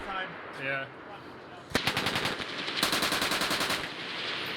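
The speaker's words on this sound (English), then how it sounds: "That's a 240 Bravo. Machine gun." An M240B machine gun fires bursts during basic-training live fire, a brief voice before the loud rapid cracks that start abruptly and continue in close, rhythmic strings with a short gap between volleys.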